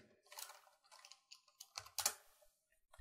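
Keystrokes on a computer keyboard as a command is typed into a Windows command prompt, in short irregular bursts of close, crisp clicks with brief pauses, no voices.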